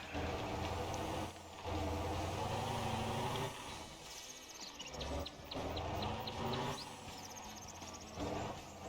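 Truck driven on a rough run in the driving game Motor Town: Behind the Wheel, with a low engine drone, air-brake hisses and intermittent high beeping tones, all fairly loud and without talk.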